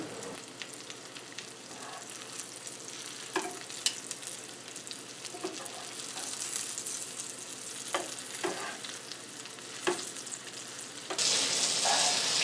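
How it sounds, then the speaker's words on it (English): Steady oil sizzle from chicken cutlets frying in a pan, with occasional sharp pops and clinks, growing briefly louder near the end; no talking. "the cutlets have finished frying"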